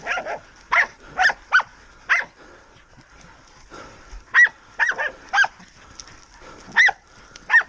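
Several dogs bark close by during a wild boar hunt encounter, in sharp bursts that come in two clusters separated by a short lull, loud and near with no talk over them.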